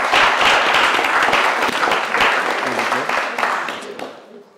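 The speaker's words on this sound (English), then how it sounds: "Let's give a round of applause for side opposition." An audience at a campus debate applauds the winning opposition side, a dense, steady round of clapping that carries on for several seconds and then trails off.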